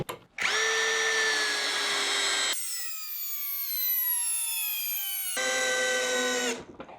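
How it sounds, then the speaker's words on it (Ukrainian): A Grosser GCD 522T cordless drill drives a screw in one continuous whining run, its pitch shifting as the load changes mid-way, loud and close with no talking. "522 закрутив з першого разу"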